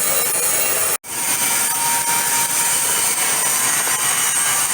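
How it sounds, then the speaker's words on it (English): Arc welder stick welding, a loud continuous crackling hiss that holds steady except for one brief cutout near the start, with no talking. "all he got to do is turn on the device and start stick welding"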